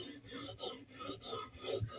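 Kitchen knife edge drawn repeatedly across a 150 grit premium CBN half stone at a 17 degree angle, giving steady rhythmic raspy scraping strokes, about four per second, close and clear with no talk.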